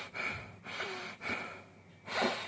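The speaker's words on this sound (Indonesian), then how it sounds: "itu nafas yang kencang" Heavy, forceful breaths drawn and pushed through a four-layer Alkindo duckbill face mask, three or four loud close puffs with short gaps between them and no talking.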